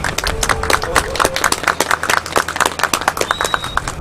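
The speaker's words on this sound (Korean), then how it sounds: "우리 젊은이들을 위해서 힘차게 박수 한번 하겠습니다" Crowd applause and cheering at an outdoor protest rally on a cold day, clapping for young demonstrators, loud and steady throughout with scattered shouts mixed in.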